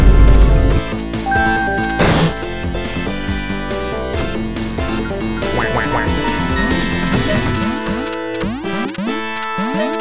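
Cartoon duck quacks and crashes from the video game Duck Game, loud and busy, with repeated electronic quacks over thumping effects and scattered sliding squawks toward the end, no talking.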